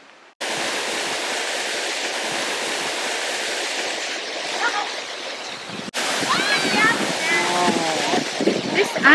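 Paradise Falls pours down with lots of water, a constant, loud rushing roar that fills the scene and swells slightly louder partway through, with faint voices and chirpy tones over it near the end.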